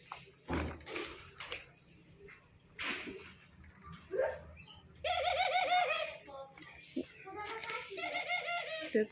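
Pet doves coo at home in soft, repeated rolling calls, close by, with a few short chirps mixed in; a person talks intermittently between and over the bird sounds.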